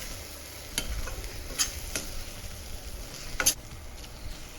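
A cut green chili sizzles in hot oil for a prawn masala, with a steady quiet frying hiss and a few sharp spatters and stirring scrapes close by.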